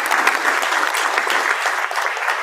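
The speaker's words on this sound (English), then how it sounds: "Give him a round of applause." A conference audience applauds loudly and continuously at a business launch event, with dense, even clapping filling the room from start to finish.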